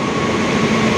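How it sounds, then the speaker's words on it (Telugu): An Indian Railways WAG9 goods locomotive hauls a goods train past at a busy station, a loud, dense, continuous rumble and roar with no break. "వ్యాగ్9 ఇండియాస్ గూడ్స్ లోకోమోటివ్ కింగ్."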